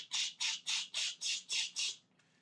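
Seven evenly spaced, harsh squawking calls from a pigeon repeat in a steady rhythm, loud and close, then stop abruptly, with no talk.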